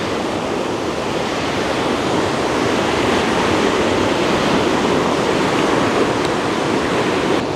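Steady, loud rush of a Yosemite waterfall's water flow, a dense continuous roar heard up close with no voices over it.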